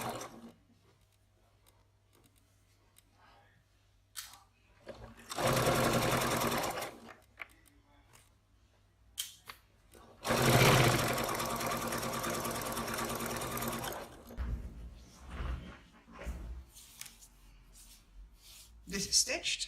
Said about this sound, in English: And now we're going to stitch from there to there.